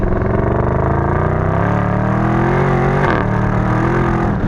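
A Mercedes-Benz SLS AMG's naturally aspirated 6.2-litre V8 revs hard and steadily for several seconds, then its pitch dips sharply before it climbs again, loud and close with no talking.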